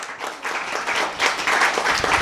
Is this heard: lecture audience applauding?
yes